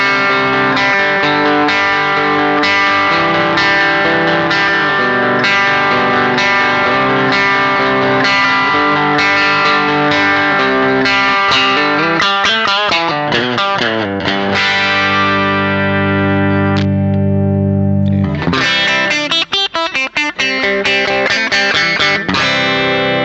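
A Squier Telecaster Affinity electric guitar with a replaced pickguard plays through overdrive, loud and sustained with rich harmonics, strummed chords and ringing notes, a brief dip near the end before dense playing resumes, no talking.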